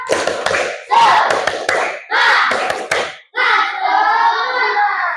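A fourth-grade class does the tepuk semangat clapping chant: three short bursts of quick group claps, each about a second long, followed by children's voices chanting together loudly.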